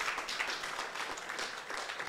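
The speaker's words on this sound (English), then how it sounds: "Let's give our panel a round of applause." An audience at a municipal post-audit symposium gives a round of applause for a panel, a dense, continuous patter of many hands clapping, heard at a moderate distance and fairly soft, with no speech over it.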